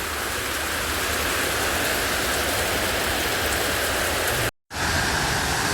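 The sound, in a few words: rain falling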